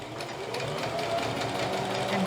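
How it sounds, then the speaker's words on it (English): A sewing machine stitches a double-sided fabric placemat with a fast, steady mechanical whir and rapid needle chatter, close and continuous throughout. "we're going to sew again"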